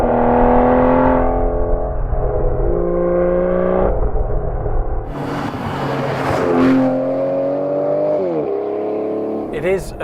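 A 2017 Aston Martin Vanquish with its front-mounted 6-litre V12 of 565 brake horsepower revs loudly and up close, the pitch climbing and falling through several pulls with a short sharp blip near the end.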